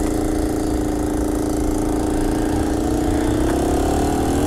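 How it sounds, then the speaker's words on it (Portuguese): A four-stroke motorized bicycle engine runs steadily on a delivery ride, loud and close, its droning mid-pitched hum holding even and rising slightly near the end, with no talking. "Motor da bike LET mesmo."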